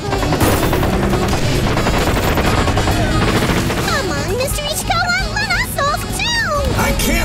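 Rapid machine-gun bursts and volleys crackle without pause through an animated highway battle in California, with whining, warbling mechanical tones rising over the din near the end and voices calling out between shots.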